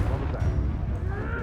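A Confringo spell explodes in the Hogwarts Legacy video game, giving a short, low blast-like crack and rumble layered into continuous combat sound.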